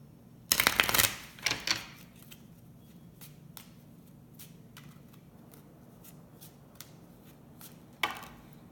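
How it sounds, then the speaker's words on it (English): A crystal oracle card deck is shuffled in a quick papery riffle near the start, followed by a second shorter riffle, scattered soft card taps and one more brief flutter near the end. "we're going to pull a card from the crystal deck."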